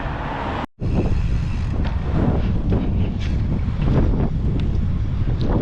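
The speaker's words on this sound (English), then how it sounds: "Yo, the wind. The wind is insane." Strong wind buffets the microphone while riding a Sur-Ron electric dirt bike past traffic, with a loud, continuous roaring rush that barely lets up apart from one brief dropout near the start.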